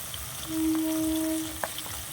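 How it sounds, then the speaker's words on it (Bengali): Fish fry in hot oil with a faint, steady sizzle, punctuated by a brief clink and a tonal squeak partway through. No voices are heard. "মাছগুলো আমার ভাজা হয়ে গেছে অনেকটা।"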